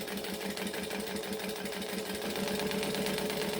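A sewing machine stitches continuously at a steady fast pace, its rapid mechanical chatter close and even throughout, no voices.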